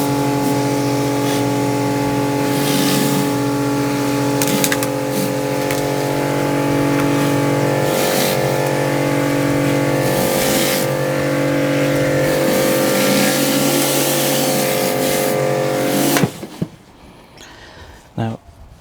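A Karcher K5 pressure washer sprays a wall with a loud, steady whining motor hiss that runs unbroken for about sixteen seconds, then cuts off abruptly, leaving only a few faint clicks.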